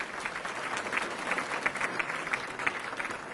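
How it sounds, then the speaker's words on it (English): Guests at a high school athletic Hall of Fame dinner give a round of applause, dense clapping from a room full of people, fairly loud and continuous throughout the short burst. "Let's have a round of applause for John."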